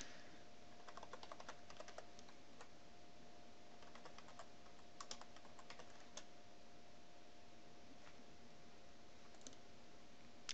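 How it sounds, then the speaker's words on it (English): Login details are typed on a computer keyboard in quick bursts of crisp key clicks separated by pauses, close but quiet over a steady background hum, with no one talking. "I'm going to go ahead and type in my information here."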